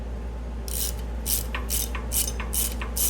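A ratchet wrench backing out a bolt on a Harley Davidson M8 engine, with steady repeated clicking strokes in a quick rhythm over a low constant hum.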